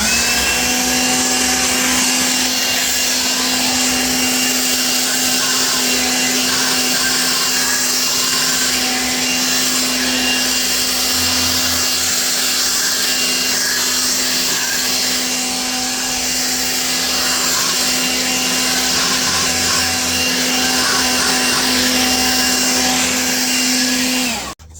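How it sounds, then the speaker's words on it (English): A leaf blower clearing dust off an Indian sandstone patio roars steadily and loudly at close range with a constant droning hum, barely wavering for the whole stretch, no voices. "You want to use your blower and literally just blow it off the patio."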